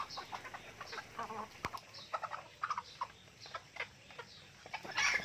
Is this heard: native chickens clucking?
yes